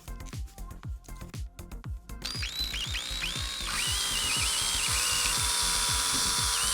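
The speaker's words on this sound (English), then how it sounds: "with a drill bit the same size as the straws to make the holes through the bottle caps" A power drill whines loudly and steadily for several seconds as it bores through a plastic bottle cap, its pitch wavering as it bites in, over a rhythmic thumping beat.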